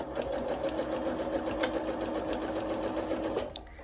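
A home sewing machine stitches side seam pockets into a garment, a steady close whirring hum running almost without pause before stopping near the end.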